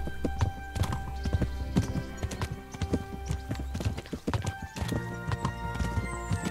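Horse hooves clip-clopping in a brisk trotting rhythm along a trail in the video game Kingdom Come Deliverance, close and clear, with a brief whinny-like sound mixed in and no talking.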